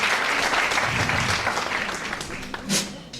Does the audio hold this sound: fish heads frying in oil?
no